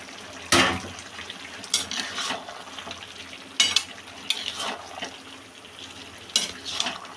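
Fried lentil fritters are dropped into a simmering banana-flower curry and stirred, giving several sharp clacks of a utensil against the pan, spaced irregularly over a faint, low sizzle.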